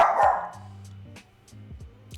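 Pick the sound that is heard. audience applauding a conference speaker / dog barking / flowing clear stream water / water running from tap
dog barking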